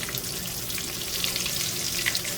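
Steady, dense sizzling and crackling of pork-rind-coated chicken nuggets frying in hot oil, continuous and fairly loud throughout with no voices.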